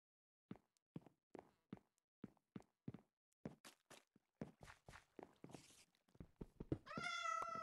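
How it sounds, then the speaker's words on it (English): A cat in the blocky mining video game Minecraft lets out one clear meow near the end, following a run of evenly spaced footsteps. "A cat."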